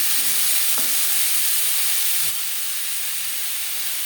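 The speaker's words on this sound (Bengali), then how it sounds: "ফোড়নের সাথে বরবটি বেশ ভালো করে মিক্স করে দেবো।" String beans stirred into hot oil with fried chili and whole spices in a pan, giving a loud steady sizzle and hiss that drops slightly partway through, with a couple of soft clinks.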